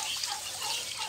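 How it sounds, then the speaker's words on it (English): Tap water runs steadily from an opened faucet into a homemade quail drinker, a continuous close trickle and splash with no voices. "If you open the faucet, it will come out the water."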